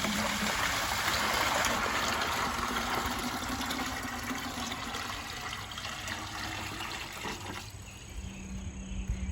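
Hot water pours steadily and loudly into a 5-gallon bucket for several seconds, a broad rushing splash that eases off near the end.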